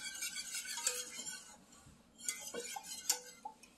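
Spoon clinking and scraping against a bowl while vanilla is stirred into a warm bread pudding mixture, a run of light ticking taps with brighter clinks near the end, close and moderately quiet.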